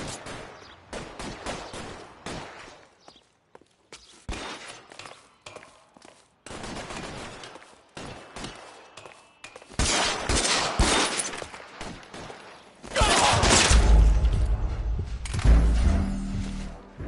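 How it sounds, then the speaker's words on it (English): A shootout in L.A. Noire: scattered gunshots and bursts of fire come and go between quiet gaps, building to louder, denser volleys toward the end, with footsteps and occasional shattering mixed in. "All units, shots fired."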